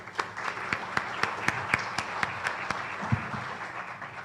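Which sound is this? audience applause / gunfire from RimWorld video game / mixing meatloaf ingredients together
audience applause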